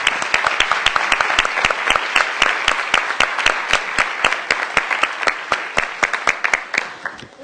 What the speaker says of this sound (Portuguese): Uma salva de palmas aos nossos convidados